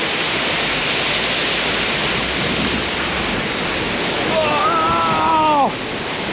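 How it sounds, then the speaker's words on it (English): A powerful, little-known waterfall in Bali roars as a steady, loud broadband rush throughout, with no one else around. "It's so powerful here. What a cool waterfall!"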